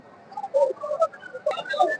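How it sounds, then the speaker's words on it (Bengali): Pigeons at a pigeon market in Rajshahi give soft, close coos and short calls, several overlapping phrases within two seconds. "বেশ বড় সাইজের একটা সবুজ বাচ্চা কবুতর"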